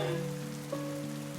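Heavy rain in a Hindi children's cartoon about a parrot and a myna bird, a steady wash of drops falling throughout, with faint tonal music running beneath it.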